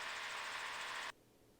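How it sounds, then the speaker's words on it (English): A Cavalon gyrocopter engine gives a steady whirring drone, close and even, that cuts off abruptly, leaving quiet background. "So we'll listen for about 5 or 6 seconds to the engine real quick."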